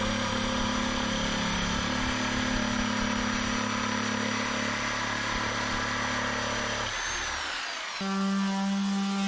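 Steady, loud mechanical whine of a power sander running continuously, cutting out briefly near the end before restarting at a different pitch.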